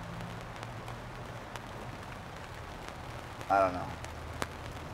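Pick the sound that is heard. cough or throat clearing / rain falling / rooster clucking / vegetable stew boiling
rain falling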